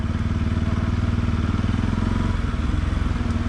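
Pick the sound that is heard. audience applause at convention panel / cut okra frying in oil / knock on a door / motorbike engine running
motorbike engine running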